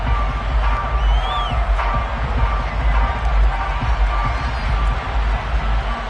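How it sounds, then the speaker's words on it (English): A stadium crowd in the Madden 23 football video game shouts and murmurs in a dense, continuous roar, steady and fairly loud throughout, with no distinct voices standing out. "Plenty of shouts from this crowd as they watch the replay."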